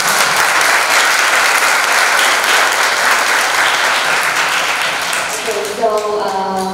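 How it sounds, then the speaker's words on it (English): An audience applauds a visiting delegation from the Victoria, Australia education ministry, steady loud clapping throughout, with a musical tone rising near the end. "let's give a big applause to the delegation"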